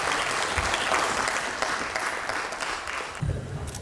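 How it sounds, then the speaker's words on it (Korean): Sustained applause fills a Democratic Party lawmakers' caucus meeting hall, a dense wash of clapping from a large crowd that runs steadily throughout, with a few heavier claps near the end. "큰 박수 보내주십시오"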